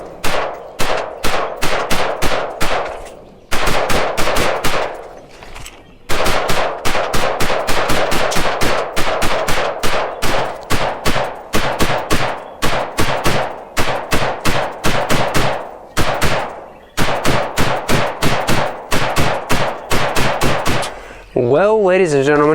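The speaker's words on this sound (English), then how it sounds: "So I'm gonna put a couple mags downrange at the silhouette, and we'll shoot at another zeroing target" Rifle fire aimed at a silhouette target on a range: rapid strings of loud, sharp shots in bursts with short pauses between magazines, close by and dominating.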